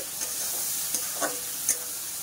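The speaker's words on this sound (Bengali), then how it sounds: "ভালো করে নেড়ে চেড়ে নিচ্ছি" Katla fish curry masala being stirred and fried in a pan, a steady close sizzle with a few soft scraping strokes of the spoon, no talking.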